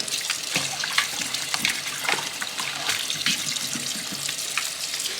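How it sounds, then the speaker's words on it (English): Cold water runs steadily from a kitchen tap into a container of frozen tilapia being thawed, a close, constant splashing stream with small gurgles and no talking. "And add a little bit more cold water."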